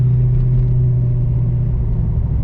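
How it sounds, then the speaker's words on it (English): A 1995 Ford Mustang Cobra engine idles loud and close, a constant deep rumbling drone with no pauses. "Maybe because this car is pretty loud."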